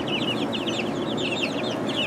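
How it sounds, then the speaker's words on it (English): A chicken clucks continuously up close, a busy run of short rhythmic clucks over steady background noise. "Okay, Mr. Chicken, how do you feel today"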